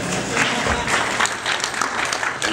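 Audience applause at a hip hop panel discussion, a loud, steady wash of many hands clapping throughout, with crowd murmur mixed in.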